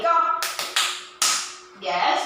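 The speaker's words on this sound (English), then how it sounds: "And clap your hands 4" A few sharp, close hand claps in quick succession during a group class, with a voice speaking just before and after them.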